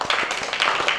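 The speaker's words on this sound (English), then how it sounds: "Give a big clap." A group of children clapping hands together during a classroom language game, crisp, loud claps landing in a quick, fairly regular rhythm close by.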